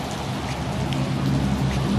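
Steady rain falls and patters on surfaces close by, a dense even hiss of drops that holds continuous for the whole moment with no talking.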